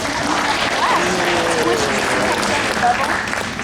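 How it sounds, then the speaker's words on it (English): An audience applauds the glassblower at the Corning Museum of Glass, a dense wash of clapping at steady strength through the whole short stretch. "why don't we start by giving Claire a nice big round of applause"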